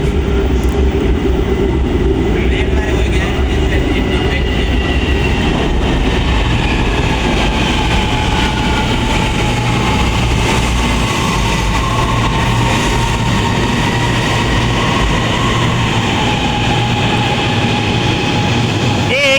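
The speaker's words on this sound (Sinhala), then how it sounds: "කෝච්චිය එක්කනවා." A train passes close by at an elevated station in Malaysia, loud and continuous, with rumbling wheels and some metallic squeal throughout.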